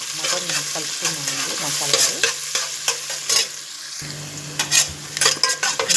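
Onions fry in a pan for Andhra-style mutton dum biryani, a steady close sizzle broken by repeated scraping stirs of a spoon against the pan, with no one talking.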